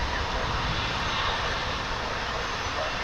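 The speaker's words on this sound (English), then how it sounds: "a DC-10/MD-10, which will be retired before the end of next year" A DC-10/MD-10 jet airliner roars steadily at Dallas/Fort Worth International Airport, a loud, continuous broadband engine rumble with no breaks.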